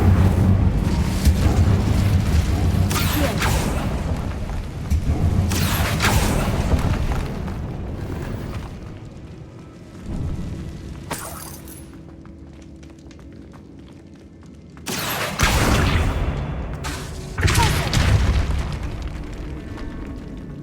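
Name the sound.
Incendio fire spell explosion in Hogwarts Legacy video game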